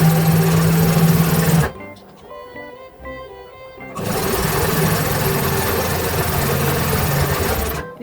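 Sewing machine stitching a seam for a plus-size cosplay alteration, with a steady mechanical whir that pauses briefly midway, then resumes for back stitches; loud and close, no talking.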